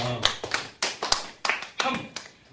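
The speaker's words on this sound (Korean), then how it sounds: "박수 한번 주세요" A short burst of clapping from several people at a church holiday gathering, uneven and close, with voices cheering over it.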